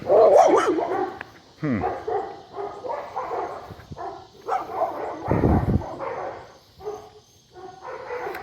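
A dog barks repeatedly in uneven bursts, mixing sharp barks with yips and whimpering whines, close and fairly loud with no one talking.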